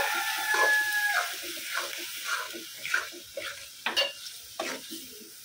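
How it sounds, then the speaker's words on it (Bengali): Spice paste with green chillies fries in a pan, a continuous close sizzle broken by several sharp stirring scrapes and clinks, with no talking. "এখন মশলাটা আমি ভালোভাবে কষাই নেব।"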